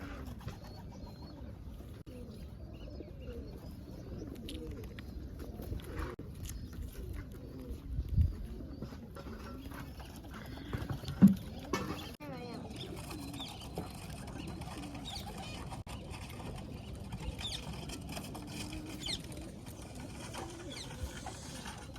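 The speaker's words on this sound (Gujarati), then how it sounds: "મિત્રો તો ઘણા બધા કબૂતર આવી ગયા છે" Pigeons coo softly and repeatedly, close by, with faint rustling and pecking sounds among the low, murmuring calls.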